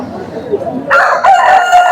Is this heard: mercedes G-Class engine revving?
no